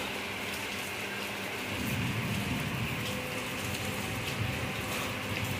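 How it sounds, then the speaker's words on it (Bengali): Torrential monsoon rain pours down steadily outside a wet window, a dense, continuous hiss that swells slightly louder partway through, with no voices. "বৃষ্টি কমছেও না"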